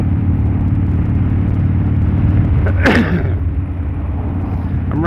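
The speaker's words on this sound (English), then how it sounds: "I'm riding a 2001 Harley-Davidson Dyna Super Glide." A 2001 Harley-Davidson Dyna Super Glide rumbles along at steady speed, a loud, low engine drone mixed with wind roar, and a short burst of noise near the middle, with no clear talking.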